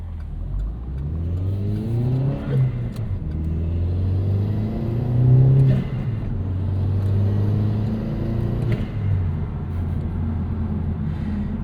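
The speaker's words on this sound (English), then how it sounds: "Old school turbo noises." Turbocharged 2009 Chevrolet Cobalt SS engine revving in repeated rising pulls, with a deep rumble and turbo whoosh heard from inside the car.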